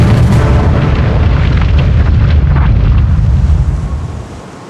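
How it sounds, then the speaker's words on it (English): Torpedo explosion against the stern of the battleship Bismarck: a loud, sustained deep rumbling blast that fills the whole clip with low roar and crackle, then fades slightly at the end. "A single torpedo strikes the rear of the ship."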